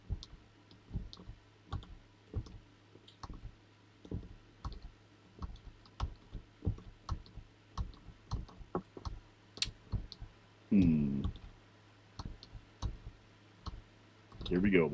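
Computer keyboard keys clatter in a steady run of sharp, close clicks while a truck driving video game is played, with a voice breaking in briefly near the end.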